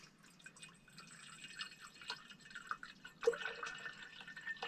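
An RKIN countertop reverse osmosis water purifier dispenses water, producing soft, steady trickling and dripping with a few brighter splashes, fairly close and moderately quiet throughout.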